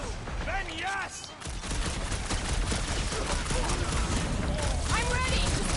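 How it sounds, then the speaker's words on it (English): Rapid, sustained gunfire from Doubleclaws enemies in the Guardians of the Galaxy video game, dense and loud throughout with a brief lull near the start, layered under voices and game sound. "If they're shooting at us, then yes!"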